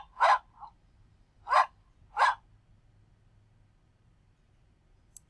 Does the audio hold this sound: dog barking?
yes